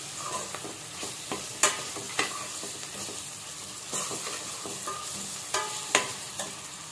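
Ginger garlic paste fries in a pan for gongura chicken curry, with a continuous sizzle broken by scraping stirs and clinks of a spoon against the pan.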